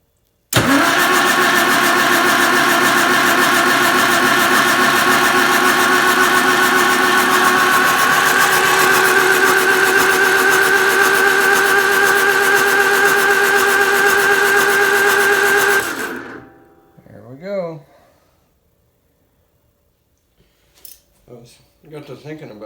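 Allis-Chalmers WD45 tractor engine running loud and steady for about fifteen seconds with a strong mechanical drone, then cut off abruptly, followed by brief clanks and near silence.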